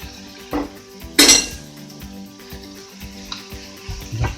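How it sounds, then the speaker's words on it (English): Minced beef being broken up with a spatula in a pan for cottage pie, with sharp metallic scrapes and clinks against the pan over a low steady sizzle, close up. "Just break that up with the spatula. You just want to brown this mince"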